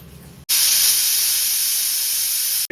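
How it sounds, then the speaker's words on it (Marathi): A pressure cooker hisses loudly and steadily as it whistles off steam while cooking vegetables for pav bhaji, starting abruptly after a short quiet moment and holding a bright, constant jet-like rush until it cuts off. "आता आपले कुकरचे दोन शिटे झालेले असत"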